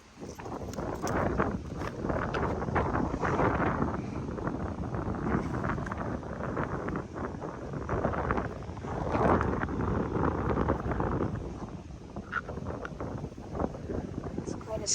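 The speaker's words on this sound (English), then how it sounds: "It's quite a strong wind today." A strong wind blusters steadily across an outdoor microphone in a continuous, rough rumble that swells and eases for the whole stretch.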